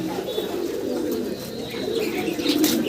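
A male American Lakha pigeon coos close by, a low, throaty, continuous rolling call lasting a few seconds.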